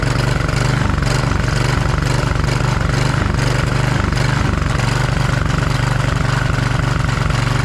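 Walk-behind trimmer with an automatic choke and a fuel problem, its small engine running loud and close with a continuous uneven drone that rises and falls as it surges, no voices.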